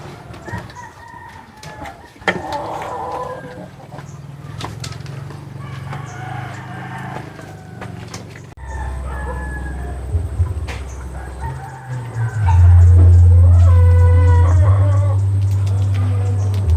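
Hens cluck and a rooster crows loudly amid farmyard noise, with people talking in the background and a strong low rumble late on.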